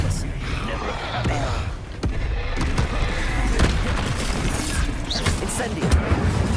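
Confringo blasting spells explode in the video game Hogwarts Legacy: heavy booming impacts and sharp cracks burst over a busy, rumbling combat din, with a voice speaking between the blasts.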